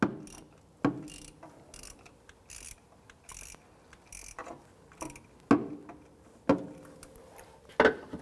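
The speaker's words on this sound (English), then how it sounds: "You can use a 7/16 socket and a couple extensions, and we're going to loosen and remove the 2 bolts holding the ignition coil." A hand ratchet with a 7/16 socket on extensions works the ignition coil bolts of a 1994-2004 Chevrolet S-10: a steady run of small mechanical clicks, close and fairly quiet, with sharper louder snaps every second or so.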